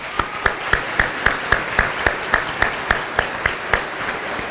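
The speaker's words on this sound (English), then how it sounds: "So let's give them a round of applause." Audience applause at a 2017 Aiken Technical College graduation ceremony, with steady, fairly loud clapping and regularly spaced sharp claps standing out near the recorder over the broader crowd.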